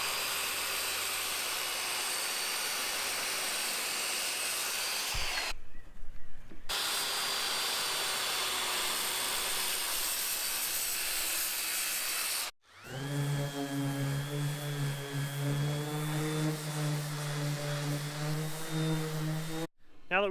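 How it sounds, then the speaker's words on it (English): Circular saw cutting wooden boards for a home plate decor piece: a loud, sustained whine runs almost throughout, with short breaks between cuts and a lower, more tonal passage in the last part. "Now we just need to cut this out with the circular saw."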